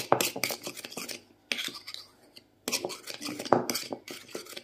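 A spoon stirring face cream in a small dish, with bursts of scraping and clinking strokes separated by brief pauses, close and fairly quiet.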